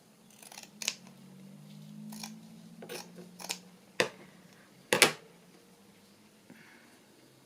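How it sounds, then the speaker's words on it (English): Scissors snip through paper in a series of sharp, close cuts spaced unevenly over several seconds, with a couple of louder snips near the middle and faint handling sounds between them. "I might just cut it and encourage it to fray afterwards"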